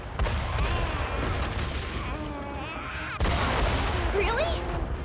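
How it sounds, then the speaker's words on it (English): Rapid bursts of explosions and booming blasts in the fantasy role-playing video game Metaphor: ReFantazio, loud and dense with a sharp fresh burst midway, mixed with game music and voices. "Why is shit exploding?"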